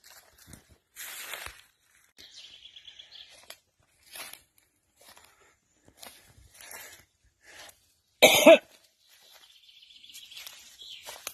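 Birds chirp softly in scattered short calls across a quiet outdoor setting, with one louder burst like a cough partway through.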